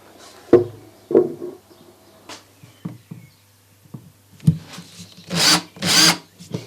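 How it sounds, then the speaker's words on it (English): A few knocks and scrapes on wood, then two short whirring bursts of a drill with a brad point bit boring into a wooden cabinet. "start these off with a woodworking drill with a brad point"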